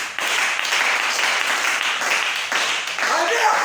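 A church congregation applauds to acclaim the Lord during a service, a dense and steady wash of clapping that stays loud throughout with voices mixed into it.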